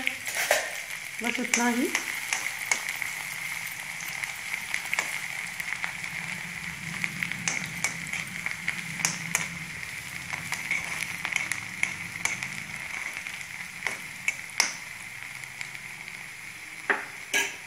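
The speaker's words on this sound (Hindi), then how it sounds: "अब इसमें सबसे पहले लहसुन डाल देंगे।" Garlic fries in hot oil with steady close sizzling and crackle, broken by scraping stirs and spoon taps against the pan, and a brief spoken remark near the start.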